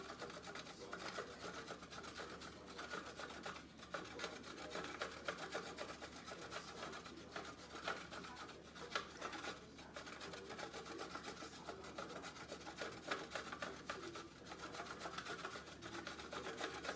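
Chocolate grated by hand onto the top of an angel food cake with mocha frosting, a steady close-up scraping and rasping that runs continuously with no talk.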